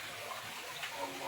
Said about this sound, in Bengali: এক বুক সমপরিমাণ পানি নিয়ে প্রবেশ করেছি।